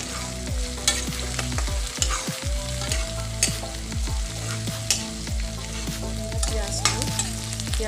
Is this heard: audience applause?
no